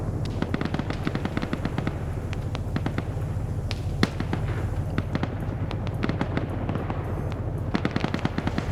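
In an online military shooter game, a helicopter strafes the ground with rapid bursts of gunfire, dense cracking reports that repeat steadily over a rumbling battlefield background.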